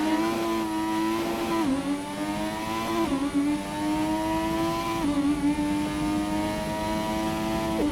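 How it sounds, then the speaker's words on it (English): A Formula 1 race car in the F1 2017 game revving hard through repeated upshifts, the engine note climbing, dropping sharply at each gear change and climbing again in a steady cycle, close and continuous with no talk. "Weird noise when you change gears though"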